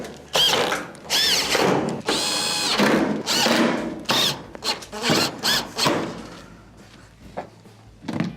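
Screws being driven back in around the perimeter of a Whirlpool stove's back cover during an infinite-switch repair, heard as a series of loud, close whirring and grinding bursts separated by short pauses.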